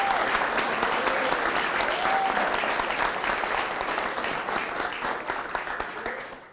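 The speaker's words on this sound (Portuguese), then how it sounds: "uma salva de palmas para eles" A crowd applauds steadily and loudly, dense clapping that holds for several seconds before slowly tapering off, with a few voices faintly underneath.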